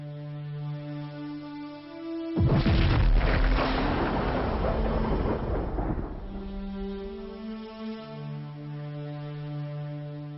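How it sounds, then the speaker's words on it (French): A star exploding as a supernova is rendered as a deep, rumbling boom that bursts in suddenly, roars loud and broad for a few seconds, then fades back beneath a sustained low droning musical hum. No speech is heard. "l'étoile ne peut plus le supporter et finit par exploser en ce qu'on appelle une nova ou une"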